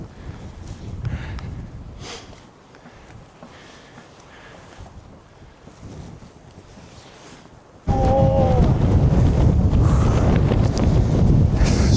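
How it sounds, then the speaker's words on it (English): Strong gusting wind buffets the microphone on an exposed hilltop, moderate at first and then a sudden loud, sustained roar of wind noise for the last few seconds. "It's windy up here."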